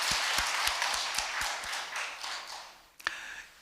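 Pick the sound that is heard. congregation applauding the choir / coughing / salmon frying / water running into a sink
congregation applauding the choir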